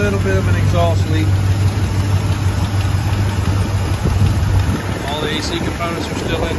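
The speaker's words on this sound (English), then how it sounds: "There's a little bit of an exhaust leak." A lifted 1985 Chevrolet K10/K30 Scottsdale square body 4x4 pickup with a small exhaust leak idles nearby, giving a steady low engine rumble with some wind noise over the microphone.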